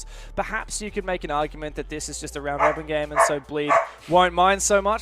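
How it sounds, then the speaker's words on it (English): A dog barks a few times in the background while someone commentates steadily over it during a Rainbow Six esports league broadcast. "Pardon the dog."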